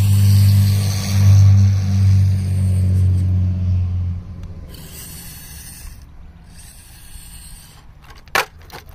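An SCX24 RC crawler with a two-speed transmission swap drives in second gear. Its electric motor and gears whir loudly and steadily, then the drone cuts out, leaving quieter mechanical rustles and a single sharp click near the end.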